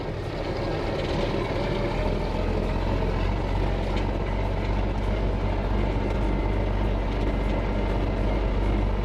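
A Renault 133.14 tractor with a new engine drives in fourth gear, giving a steady, loud engine drone with a deep low rumble that continues unbroken from start to finish, with no talk.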